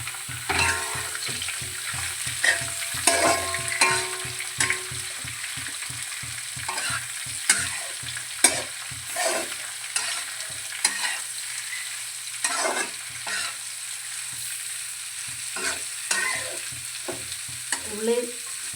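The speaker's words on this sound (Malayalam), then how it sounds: "ഇത് അരമുറി തേങ്ങ ആണ് ഞാൻ ഇത് എടുത്തേക്കുന്നത് വറക്കാൻ" Half a coconut with five shallots and five onions roasts in a pan for a Kerala-style pork fry. A soft sizzle runs throughout under many rhythmic scraping stirs, close and steady.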